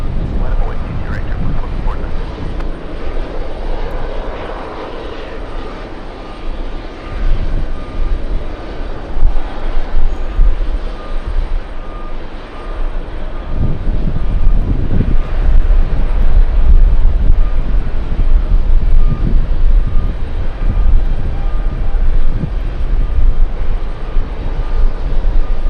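A Lufthansa jet roaring down the runway on takeoff, a broad, loud engine rumble that swells and stays heavy, heard from a distance with a voice talking over it at times.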